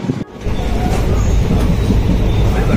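Indian Railways passenger train on the Kannauj to Farrukhabad route running with a steady, loud rumble and rattle of wheels on track, continuous throughout with a brief dip near the start.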